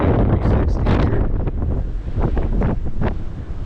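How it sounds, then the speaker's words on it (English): Strong wind buffets the microphone at a hilltop fire lookout, a loud, continuous roar with gusty swells and dips throughout, no voices heard. "Definitely windy because we're at the top of the hill."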